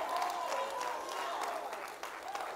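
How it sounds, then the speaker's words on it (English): A church congregation claps along in a gospel worship service, the scattered rhythmic claps running under sustained singing or voices throughout. "I need my sons and daughters to clap."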